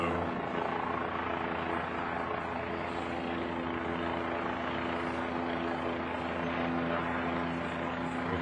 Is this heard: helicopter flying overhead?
yes